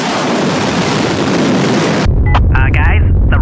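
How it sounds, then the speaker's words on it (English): Rocket launch in the Henry Stickmin game: a loud, roaring broadband rush of exhaust that cuts off abruptly, followed by a brief voice speaking over low rumble. "the rocket's launching"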